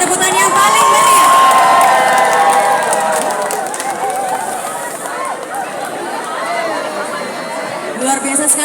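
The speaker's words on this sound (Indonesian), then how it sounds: "Berikan tepukan yang paling meriah" A large crowd at an evening political gathering and religious assembly roars with cheering, whoops and shouting, loud and close, with excited chatter and some children's voices mixed in throughout.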